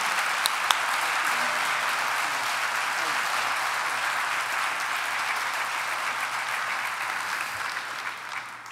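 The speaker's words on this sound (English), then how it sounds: "a big round of applause for Chris Hall and his team coming back up to the podium" Sustained, even applause from an awards luncheon audience at a chamber of commerce leadership event, honoring a team returning to the podium, a broad wash of many hands clapping steadily at moderate volume.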